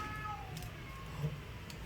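House cats meowing somewhere nearby, faint and brief, with a dog also around; soft thin cries over a low background hum, no talking.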